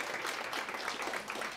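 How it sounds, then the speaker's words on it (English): Faint, distant applause from an audience at a disability-focused showcase event, a soft continuous wash of clapping lasting only a moment. "warm round of applause for our three showcase"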